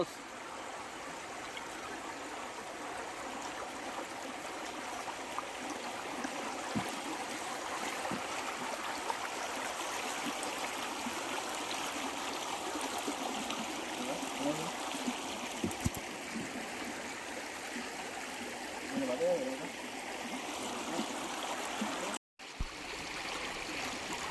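Water rushes beside a boat in the middle of a river, a faint, steady wash and trickle that runs throughout with little change.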